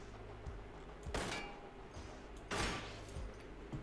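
Two sharp gunshots in the video game Receiver, spaced about a second and a half apart, each a loud broadband crack with a short tail over a low ambient hum.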